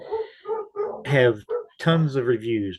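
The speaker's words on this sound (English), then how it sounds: "Pardon the dogs in the background," Dogs yip, whimper and bark in the background while someone talks over them, the canine sounds short and intermittent beneath the speech.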